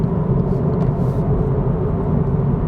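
A Hyundai i30 N-Line hatchback accelerates in fifth gear on a road, heard from inside as a steady, loud low engine drone and rumble.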